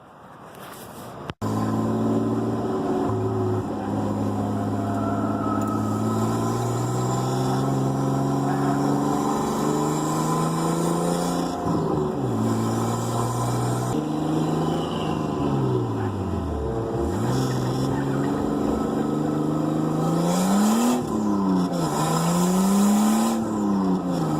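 A Datsun drives with a continuous squealing whine from its tires due to misaligned wheels. The pitch wavers up and down as the engine revs, steady and close.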